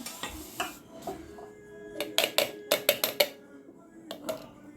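A spoon scraping and clinking against a metal wok while cream left from making ghee is scooped out, a quick burst of sharp metallic taps and scrapes, close, amid soft kitchen noise.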